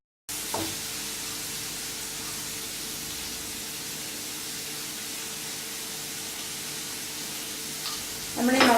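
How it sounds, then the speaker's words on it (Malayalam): Sliced onions with salt sautéing in a pan toward light brown, a steady faint hiss of frying running throughout, with a couple of brief clinks and a louder scrape at the end. "ഒരു ലൈറ്റ് ബ്രൗൺ ആവുന്ന വരെ നമ്മൾ ഇതൊക്കെ വഴറ്റി എടുക്കുകയാണ്"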